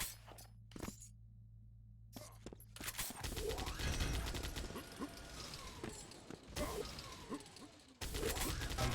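A Gatling gun firing in the video game Doombringer, a dense, continuous rattle of rapid shots and mechanical clatter lasting several seconds, with brief pauses and a near, loud character.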